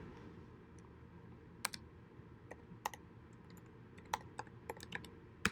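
Code typed on a computer keyboard, soft scattered key clicks in short irregular runs, close and faint over a quiet room hum.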